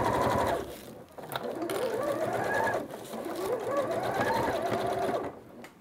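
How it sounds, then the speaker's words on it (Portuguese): A sewing machine runs a seam along the fabric edge of a baking-dish carrier, its motor whirring steadily and rising and falling in speed through two long close passes. "Aqui eu faço uma costura bem na beiradinha."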